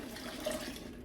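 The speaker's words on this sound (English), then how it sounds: "I'm gonna fill up this with water" Water runs steadily into a cooking pot, a continuous splashing pour with no break, fairly close.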